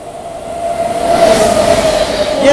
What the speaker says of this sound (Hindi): ये देखिए कालका शताब्दी का ओवरटेक पड़ गया भाई अपनी गरीब रथ एक्सप्रेस को